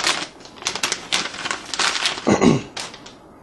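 A cardboard box for a Hauppauge Colossus capture card being opened up close, with a quick run of crisp rustles, scrapes and tapping handling noises and no speech.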